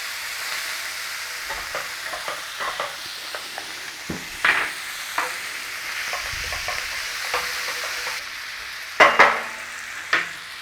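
Cajun-seasoned steak fries in butter in a pan, a steady close sizzle broken by sharp utensil clinks and scraping stirs, the loudest pair of clatters landing near the end.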